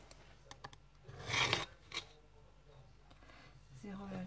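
Paper being creased and folded by hand for a happymail envelope made from a 15×15 block, soft brief rubbing and scraping strokes, close and quiet, with a short swishing pass in the middle.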